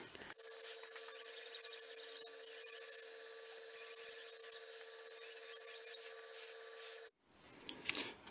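A belt grinder with a scalloped belt sands a wooden chef knife handle, a loud, steady abrasive whine with a strong tone that runs unbroken for about seven seconds, then cuts off abruptly, leaving quieter handling noises.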